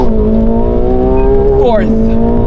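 A McLaren 750S at full power on the Top Gear test track: a loud, continuous close-up engine roar climbing steadily in pitch, with a quick gearshift dip near the end before it pulls again.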